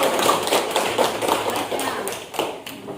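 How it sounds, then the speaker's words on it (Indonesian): A burst of clapping from a class during a peer-teaching session in Banda Aceh, dense and steady for a few seconds, fairly close. "Tepuk tangan dulu."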